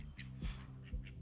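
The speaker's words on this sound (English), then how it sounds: "Aren't they cute? Ducky ducks." A few ducks give short, raspy quacks at close range over a steady low rumble, likely from an idling motorcycle nearby.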